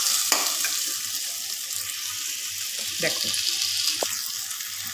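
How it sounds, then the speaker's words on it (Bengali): Ground spices are stirred in a pan for a sweet mango pickle, a steady close hiss of frying with intermittent scraping strokes of the spoon, and a voice briefly speaks over it. "ভালো করে নাড়াচাড়া করব।"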